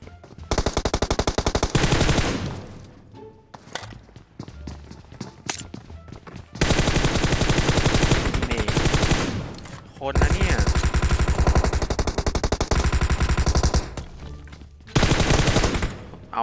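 Bursts of M4 rifle automatic fire in PUBG Mobile, loud rapid volleys in several long strings separated by short pauses, with a quieter stretch of scattered shots and game sounds between them.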